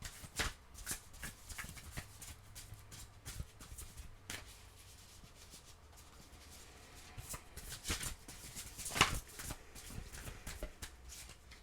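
Oracle cards shuffled by hand in steady riffling and sliding strokes throughout, moderately close and fairly quiet, with a sharper slap of cards near the end and no talking.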